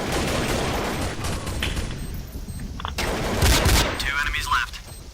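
Gunfire in a shooter video game, a dense burst of rapid shots and booms that thins out midway, then further sharp shots and game sound effects, with a voice talking over part of it.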